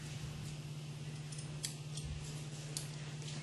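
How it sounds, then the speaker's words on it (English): Scissors snip a tab into car headliner fabric during a headliner install, a few quick, close, crisp cuts over a steady low hum in a quiet workspace. "we're going to cut our little tab here"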